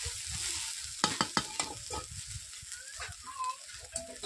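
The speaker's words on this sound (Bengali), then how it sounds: "আমি প্রথমে শাকগুলোকে কড়াইয়ের মধ্যে দিয়ে দিয়েছি" Susni greens fry in a wok with a soft, steady sizzle, while a spatula stirs them in a quick series of clacks and scrapes. The overall sound is fairly quiet.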